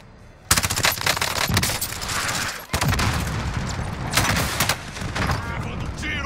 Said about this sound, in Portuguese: Levando tiro aqui.